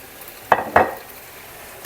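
Pasta with kale, garlic, olive oil and Parmigiano stirred in a pan, with three sharp utensil clacks against the pan over a faint sizzle, close up and without talk.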